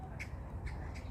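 Outdoors among big cherry blossom trees in April, magpies give three faint, raspy calls spaced evenly apart, fairly distant over a soft background hiss.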